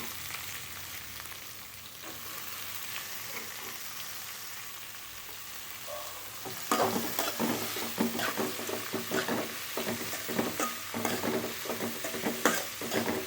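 Cabbage with curry leaves sautéing in a pan gives a steady sizzle, and from midway louder scraping stirs and clatter start up, close and continuous with no talk.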